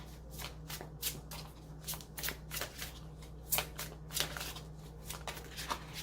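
Tarot deck of the Orisha being shuffled by hand, a rapid run of crisp card riffles and slaps in irregular bursts, close and fairly soft, with no talk.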